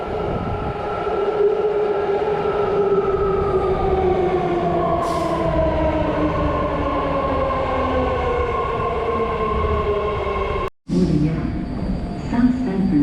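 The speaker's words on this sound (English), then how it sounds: "This is a red line train to Richmond." Red line BART commuter train at a South San Francisco station, a steady loud rumble with descending whine tones as it moves, a brief dropout near the end, and faint voices around it.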